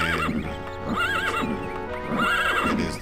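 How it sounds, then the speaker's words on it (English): A video game horse in The Elder Scrolls II: Daggerfall neighs loudly and up close, with repeated shrill, wavering whinnies alongside hoof clip-clops and no voices. "Let's use my really loud, annoying horse."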